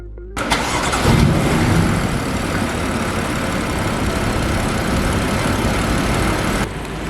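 A BMW F80 engine cranks and fires up at about half a second, settling into a loud, steady idle close by that runs unbroken for several seconds before a slight drop near the end.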